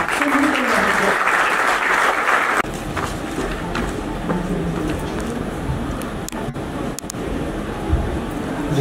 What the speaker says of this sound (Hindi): तो हम जोरदार तालियों से स्वागत करते हैं हमारे सर का.